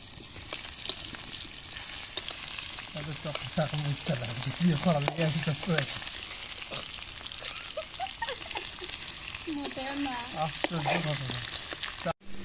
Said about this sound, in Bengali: এই যে ভাই পাতলা করলাম, আলুগুলো ভাজছে